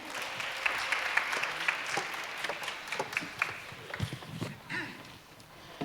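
An audience at a youth joint worship service claps for a speaker coming forward, a steady wash of many hands with scattered sharper claps, moderately loud and fading toward the end.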